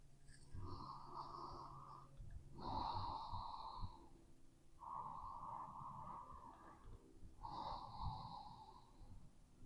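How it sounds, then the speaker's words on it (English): Slow deep breaths during a yoga forward bend, four long airy inhales and exhales in an even rhythm, close and soft in a quiet room with no talk. "Deep breathing here."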